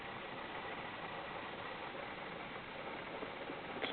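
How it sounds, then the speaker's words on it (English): A steady, even hum from the switched-on impulse engines of a 12-volt shuttlecraft model, soft and continuous with no talk and no change in pitch. "I'll turn the impulse engines on"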